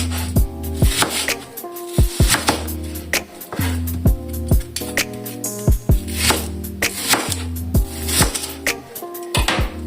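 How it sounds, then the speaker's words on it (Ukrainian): A knife cuts an onion into wedges for a vegetable sauté, with a series of sharp, close knocks on a cutting board in an irregular rhythm and sustained background tones between the cuts. "Цибульку нарізаємо теж такими дольками."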